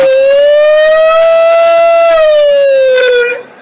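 Ambulance siren following police, a loud, close single sustained wail that rises slightly, holds, then falls and cuts off.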